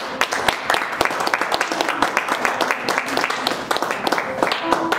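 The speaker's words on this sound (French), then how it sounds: "Acclamons pour sa présence." A church congregation applauds together in a dense, steady run of claps, loud and close, with voices mixed in throughout.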